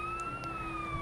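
A SHIELD-liveried truck in the Lego Marvel Super Heroes video game sounds a steady electronic siren, a sustained wavering tone over low background noise with no talking.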